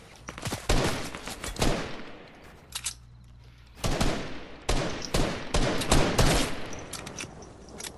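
Fortnite gunfire rattles in dense automatic bursts and single sharp shots, loud and close, with short lulls between volleys.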